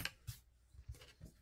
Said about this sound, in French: les petites pattes qu'on voit dépasser, moi, je viens les couper